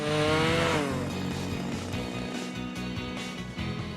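A chainsaw cuts trees a few centimetres above the ground, running loud and close. The engine revs at first, then bogs into a steady cutting drone with small dips in pitch, and nobody speaks.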